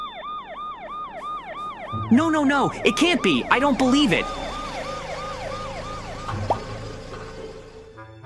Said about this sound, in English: I hear an ambulance siren.